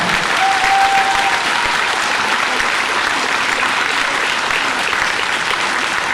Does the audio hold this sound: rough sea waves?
no